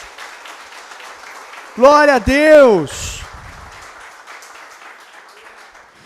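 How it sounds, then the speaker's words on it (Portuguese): A church congregation applauds at a sermon, a soft, steady patter of clapping. A preacher's loud, drawn-out exclamation briefly rises over it, then the clapping continues faintly on its own. "Você pode aplaudir o Senhor por isso, querido?"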